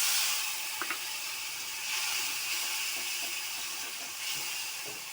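Water poured into a hot pan hisses with a loud burst of steam that settles into a softer, steady sizzle, close by with slight swells.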